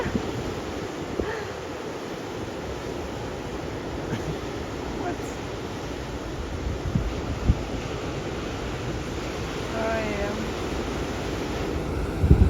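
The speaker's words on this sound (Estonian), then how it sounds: "Aga päris head lained." Ocean waves and surf break along the shore of an Australian island, a steady broadband wash with wind buffeting the microphone and a few louder surges, continuous throughout with no other prominent sounds.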